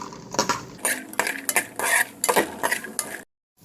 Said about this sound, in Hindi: मैं ये बादाम और काजू इनको भी फ्राई कर लूँगी।